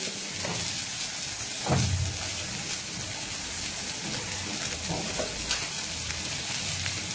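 Spices for sambar frying in a pan, a low steady crackle and sizzle running through without a break, with faint stirring scrapes now and then and no talk.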